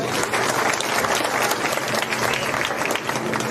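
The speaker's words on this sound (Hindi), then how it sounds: "तो एक बार जोरदार तालियां हमारी माताएं बहनें के लिए।" Crowd applause at an outdoor political rally (chaupal) in Haryana, a dense, steady wash of many hands clapping loudly and continuously throughout, with faint voices mixed into the roar.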